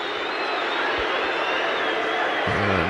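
Home crowd at Brighton & Hove Albion's football stadium during a match against Ipswich Town, a steady, loud broadband roar of many voices reacting after a foul, continuous throughout with a brief low whistle-like tone near the end.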